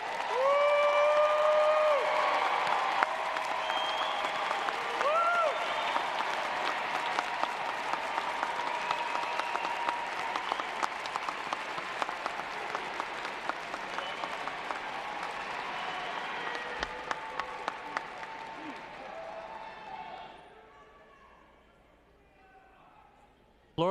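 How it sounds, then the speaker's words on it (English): Large audience applauding at Florida State University's 2023 fall commencement, sustained clapping filling a big hall for about twenty seconds before thinning out and fading; a voice speaks briefly near the beginning. "would you please stand so that we can applaud your accomplishments?"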